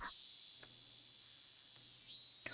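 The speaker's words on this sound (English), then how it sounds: "The cries of the cicadas echoed in the quiet schoolyard." Cicadas drone steadily in a quiet schoolyard in the Higurashi visual novel, a continuous high buzzing chorus that swells slightly louder near the end, with no voices.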